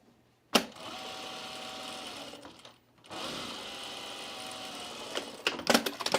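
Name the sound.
sewing machine stitching a collar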